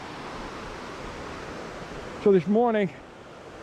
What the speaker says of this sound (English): Below me, maybe you can hear the rushing water.